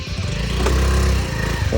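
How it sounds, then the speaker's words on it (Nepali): A scooter engine runs steadily nearby with a low buzzing drone, loud throughout with no pauses. "यहाँबाट स्कुटर फर्काउँदैछ"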